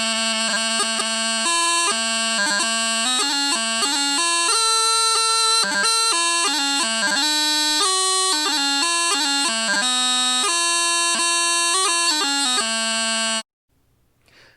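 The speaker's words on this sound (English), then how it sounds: "The practice chanter sounds like this." Bagpipe practice chanter playing a continuous reedy melody of quick note changes and grace notes, loud and close, alone without talk, ending abruptly near the end.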